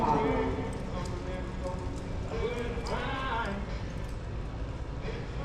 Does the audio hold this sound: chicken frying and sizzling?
no